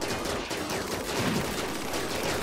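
Mechs and colonists trade gunfire in RimWorld Alpha 9, a dense continuous rattle of rapid shots with bursts overlapping throughout, steady and moderately loud.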